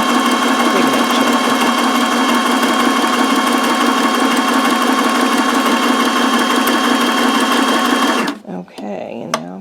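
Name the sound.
sewing machine stitching baby book pages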